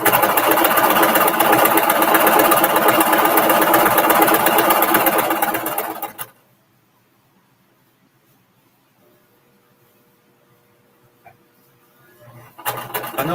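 A sewing machine stitches a quilt with a steady, close motor whir for about six seconds, then stops abruptly, leaving near silence until faint handling noise at the end.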